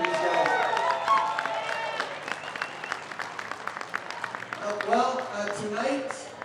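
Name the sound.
audience applause at a rodeo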